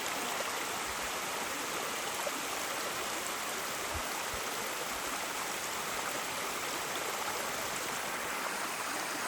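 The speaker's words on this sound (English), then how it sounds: "Oh, there's a bit of a waterfall down there." A small waterfall in a mountain creek gives a steady, broad rushing roar of falling water, heard from some distance, with no one speaking.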